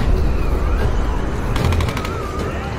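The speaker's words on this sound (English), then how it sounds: "Who's shooting at us?" Gunfire in the Tomb Raider finale: a rapid burst of shots rattles over loud, dense action noise and a whining tone, with no talking.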